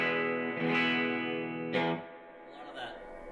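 Fender Jazzmaster electric guitar played through a Mercury amplifier, a few ringing strummed chords with a sustained decay, close and moderately loud, with no talk over it.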